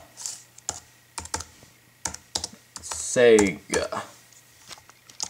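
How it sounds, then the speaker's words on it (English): Typing on a computer keyboard into a search bar on a Mac, a few quick bursts of keystrokes spread across the clip, with a person speaking briefly in between. "Just type in on your search bar anywhere"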